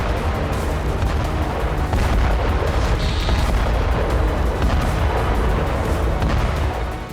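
Sustained heavy blast roar from a strike on a Ukrainian weapons and ammunition depot, a dense continuous rumble with rolling booms and crackle, loud and steady throughout with no voices.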